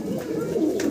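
Fancy pigeons kept in a cage give a brief, close, continuous throaty cooing, loud and alone with no voices.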